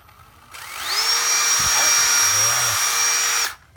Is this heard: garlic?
no